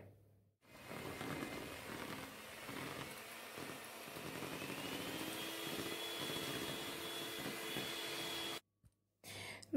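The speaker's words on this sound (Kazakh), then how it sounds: "Оған дейін біз белоктарымызды миксермен жақсылап миксерлейміз." An electric mixer beats egg whites for a banana sponge cake, a steady whirring motor drone that runs continuously for about eight seconds before cutting out, with a brief restart at the end.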